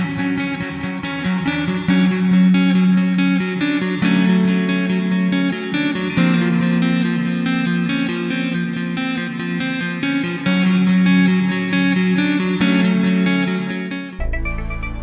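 A horror film theme played in 5/4 time, a steady repeating piano-like figure with sustained low tones in an off-kilter five-beat rhythm, loud and continuous with no talking.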